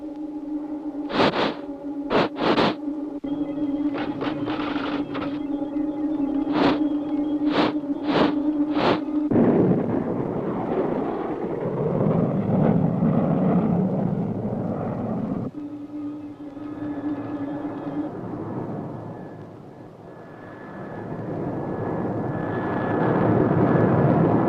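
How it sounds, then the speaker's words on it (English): A cartoon spaceship, the Starduster, sets down on a landing pad: a series of sharp electronic beeps gives way to a loud whooshing engine roar that swells, dips and rises again, with no voices. "Space Angel just landed in the Starduster"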